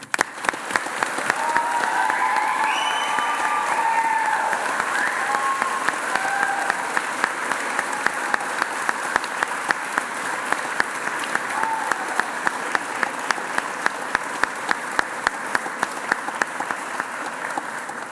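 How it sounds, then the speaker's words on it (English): Graduation ceremony audience applauding and cheering in a large hall, a steady roar of clapping with scattered whoops that holds throughout at a sustained, fairly loud level. "your friends, family and supporters have applauded and cheered and lots of noise"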